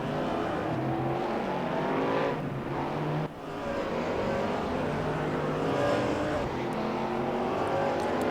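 A Ford Mustang race car at the Nurburgring drones loudly with a sustained engine note that shifts pitch through gear changes, with a brief lift around the middle before powering on again.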